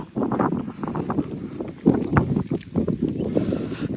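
Gusty wind buffets loudly against the microphone in uneven rushes on a monsoon trek in Kodaikanal, rising and falling throughout with no voices.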